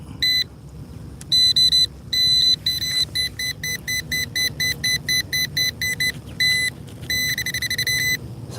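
A Bounty Hunter Tracker IV metal detector in tone mode sweeps over a small buried target on a road, giving repeated loud electronic beeps in short bursts and rapid pulses, close up with low rumble beneath and no talk.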